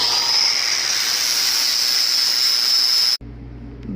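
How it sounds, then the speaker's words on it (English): Flap disc grinding steel on a welding table, a loud steady abrasive hiss with a high whine held for about three seconds before cutting off abruptly to near quiet. "Hit it with a flap disc."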